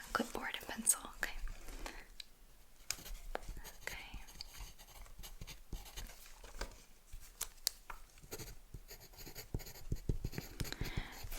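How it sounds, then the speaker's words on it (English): A pencil scratches and taps across paper on a clipboard in a quiet, close-up therapy-style roleplay, giving soft irregular strokes with brief pauses and faint whispering underneath. "I will be taking notes with my clipboard and pencil"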